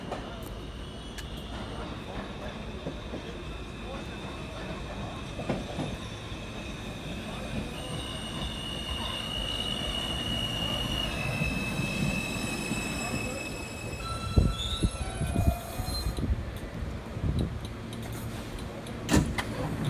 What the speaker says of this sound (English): This is a Coney Island Stillwell Avenue bound Q.